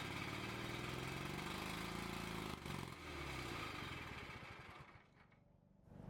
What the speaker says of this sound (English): after the engine warms up, it just starts raising the RPMs incredibly high